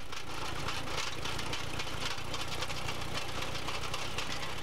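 A 1916 Clayton Crawler tractor with a Dorman engine runs continuously, a steady, dense mechanical rumble with a faint knocking texture and no pauses.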